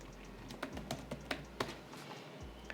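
Password typed on a computer keyboard during a PostgreSQL installation on Windows, a short burst of about half a dozen light, close key clicks at an uneven pace with no talking.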